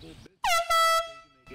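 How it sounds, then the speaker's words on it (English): A loud air horn sounds nearby outside a Home Depot store in two long, brassy blasts separated by a short break. Speech is heard before and after the blasts. "Air horn alert."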